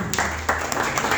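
Brief applause from a classroom audience, a burst of scattered hand claps at close range with uneven rhythm, over in about a second.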